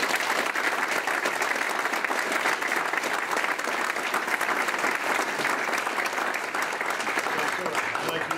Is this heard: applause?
yes